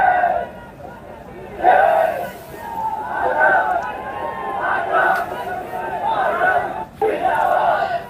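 Crowd of protesting students gathering at Jantar Mantar, a dense babble of many voices with shouts swelling and falling in bursts, fairly close and loud throughout.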